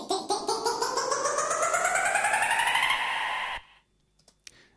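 A looped sample riser is repitched ever higher so its repeats play faster and faster, pulsing and sweeping upward for about three seconds before cutting off into near silence with a couple of faint clicks.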